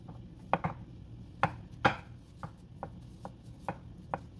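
Raw chicken being sliced thinly for a stir-fry, a knife striking a cutting board in about ten sharp, fairly close taps with irregular spacing and no talk.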